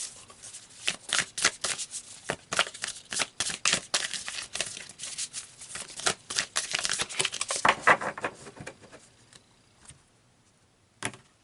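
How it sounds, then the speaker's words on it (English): Tarot cards being shuffled by hand, a dense run of crisp riffling and slapping card sounds, close and fairly loud, fading to a few isolated taps at the end. "So let's pull some more cards."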